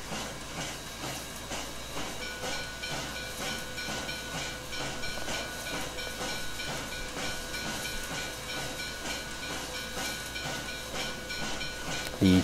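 Steady rhythmic chuffing and hiss from a CN S1b 2-8-2 steam locomotive in Trainz 2019, a continuous running loop with faint rail clatter underneath, even in loudness throughout and without talk.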